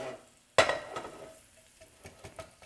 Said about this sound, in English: Just want to saute for a minute or two.